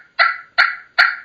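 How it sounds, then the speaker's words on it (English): A slate pot turkey call produces three soft, rolling purrs, evenly spaced and close up, each a short raspy trill with no voices around. "I like a slate because you can purr on it."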